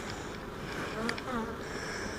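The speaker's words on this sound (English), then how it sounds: "But plenty of bees in that." A steady, dense insect drone fills the clip, like many bees buzzing close by, with a faint murmur of voice in the background.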